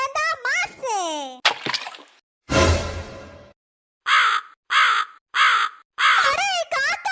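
A crow caws repeatedly in a house in a Tamil comedy skit, a string of loud, close caws with sharp pauses, alongside a splash of water midway.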